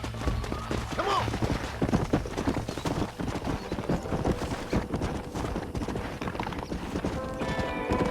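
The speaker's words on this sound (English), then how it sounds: "We got some fine horses." Horse hooves clip-clop in a rapid, continuous rhythm in the Red Dead Redemption western game, close and fairly loud, with a brief whinny and faint voices beneath.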